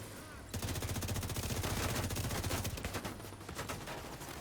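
Rapid automatic gunfire in a shooter video game, a dense sustained burst of fast shots starting abruptly and continuing about four seconds, loud and close.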